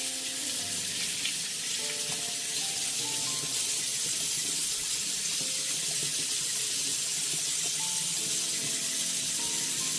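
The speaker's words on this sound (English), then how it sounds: "let me just rinse this off and see if you see a difference" Running tap water pours steadily as a Baby Dear vinyl doll is rinsed under it, a constant hissing splash close by with faint shifting tones as the doll moves through the stream.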